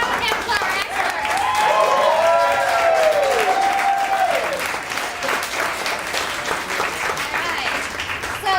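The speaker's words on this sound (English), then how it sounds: "round of applause for our experts" Loud, steady audience applause at a student improv comedy show fills the whole stretch, with whoops and cheering voices rising above the clapping near the start before it settles into even, sustained applause.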